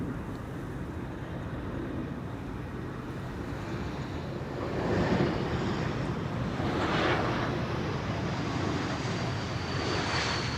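An Air Europa airliner approaching Amsterdam Schiphol produces a steady engine roar that swells slightly as it nears and then holds, with no voices.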